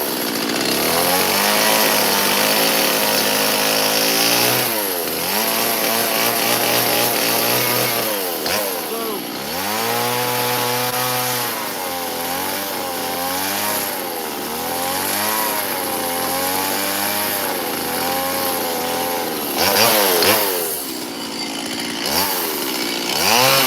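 A chainsaw roars steadily close by while carving an elk sculpture from wood outdoors in a snowy winter storm, its pitch rising and dipping as the blade bites into and frees from the wood, with brief throttle drops.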